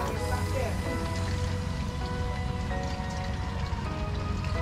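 Rain patters steadily onto a fishing boat at sea, a constant hiss of drops striking surfaces nearby, with people talking and calling out over it.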